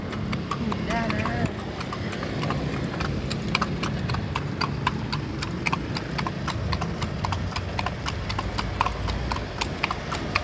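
Horse hooves clip-clopping steadily on pavement while pulling a bendi, a horse-drawn cart, through Padang streets, an even, quick rhythm of sharp clops over traffic rumble, with brief talk at the start.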